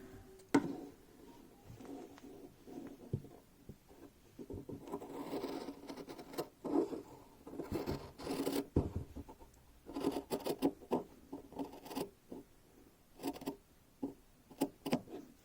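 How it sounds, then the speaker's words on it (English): Scissors snip through lightweight, stretchy Moroccan crepe fabric close to the stitching of a sleeve placket, giving a run of soft, close crisp cuts and rustling fabric with no talk. "you want to cut right up to the point, but not through your stitching"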